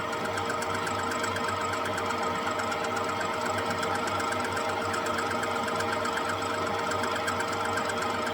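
A manual milling machine cuts metal at a 1.5 mil depth of cut, producing a steady, rapid mechanical whir with fine rhythmic ticking from the spinning cutter, close and continuous.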